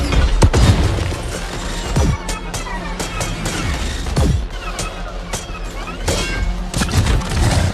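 Bursts of gunfire and heavy impacts from a movie fight scene between humans and robots, sharp repeated shots and booms layered over a dense action soundtrack.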